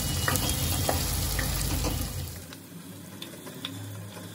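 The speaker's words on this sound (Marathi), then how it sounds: "आता कांदा थोडा लालसर होईपर्यंत मी ह्यांना तेलामध्ये चांगला परतून घेते" Onions fry in oil and are stirred for a Khandeshi shepu palak bhaji, a loud close sizzle with scraping spatula strokes that eases into quieter intermittent clinks halfway through.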